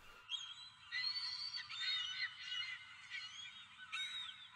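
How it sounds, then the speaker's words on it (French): Seagulls crying in the sea-faring video game King of Seas, a dense, continuous chorus of high, squealing honks and calls that fills the scene without pause and with no talk. "Les mouettes, vous faites des bruits d'une autre dimension"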